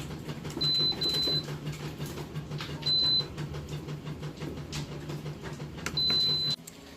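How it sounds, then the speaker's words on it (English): A kitchen slow cooker beeps when cooking finishes, sounding four short high electronic tones in an uneven pattern over a low steady hum, close and clear. "Okay, so it dinged."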